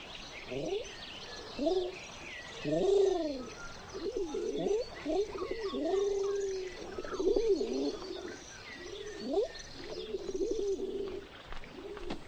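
A dove coos repeatedly in a soft, rhythmic series of low throaty calls over about twelve seconds, with faint chirps and background noise around it.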